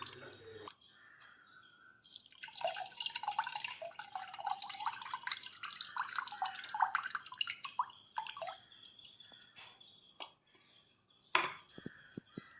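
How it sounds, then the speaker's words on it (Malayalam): Water pours into a pot of tamarind curry, a gentle splashing trickle in the middle, followed by a few faint drips and a sharp clink of a utensil. "ആവശ്യത്തിന് വെള്ളവും കൂടി നമ്മൾ ഇതിലേക്ക് ചേർത്ത് കൊടുക്കണം"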